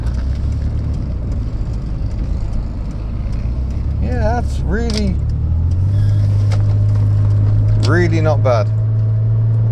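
A Rover MGF V6 car is driven with a loud, steady engine drone and road rumble that deepens slightly partway through. Someone talks briefly over it.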